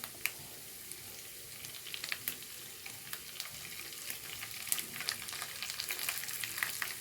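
Urad dal and cut dried red chillies crackle in hot oil for a tender plantain-stem and chickpea thoran, a quiet, continuous frying hiss dotted with small pops and spoon scrapes.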